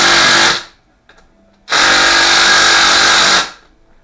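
Brushless Ridgid impact driver breaking loose tight crankcase bolts on a 2003 Ski-Doo Summit 800 HO snowmobile engine: two loud, close bursts of rapid hammering, the second longer, separated by a short pause.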